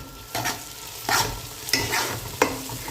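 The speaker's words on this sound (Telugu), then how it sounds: "అల్లం వెల్లుల్లి పేస్ట్ వేసుకోవాలి" Freshly ground ginger garlic paste fries in a pan, a steady close sizzle broken by four distinct scraping stirs of a spoon at roughly even intervals, with no voices.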